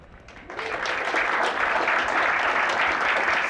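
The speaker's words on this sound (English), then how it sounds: "please give a big round of applause for our 9 startups" Applause from a large crowd at a startup accelerator demo day swells quickly and holds steady, a dense wash of clapping with no voices on top.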